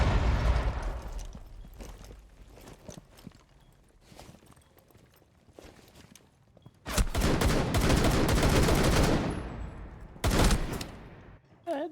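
Gunfire in the Rainbow Six video game: scattered distant shots and footsteps, then two loud close bursts of rapid automatic fire, the second short.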